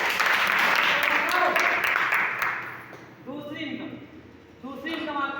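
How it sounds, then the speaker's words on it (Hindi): A crowd at a gathering claps, a broad burst of applause that fades after a few seconds as a voice speaks over and after it. "दादा के लिए एक बार जोरदार ताली बजा"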